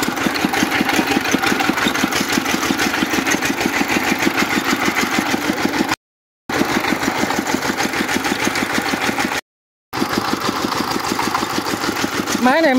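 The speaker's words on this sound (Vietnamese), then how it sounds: "Động cơ của cái máy này á, chạy đồng suốt này á, là máy gì?" A Chinese-made engine drives a rice threshing machine in a flooded paddy, running loud and close with a fast, steady mechanical chug that fills the whole stretch, and people talk over it.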